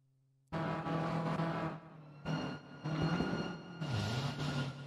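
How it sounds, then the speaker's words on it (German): In a racing video game, car engine noise cuts in abruptly after a short silence and continues in loud bursts with brief dips as one car pushes another, with no audible impact sound. "Man hört das Auto, das es schiebt."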